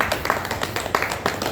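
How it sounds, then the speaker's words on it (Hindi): A small audience claps along in a quick, uneven rhythm, with individual claps audible at moderate loudness against a background murmur. "एक बार महामाई के लिए ताली बजा दो"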